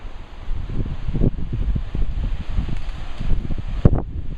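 Steady wind buffets the microphone, a continuous low rumble with gusting bursts, outdoors with no talking.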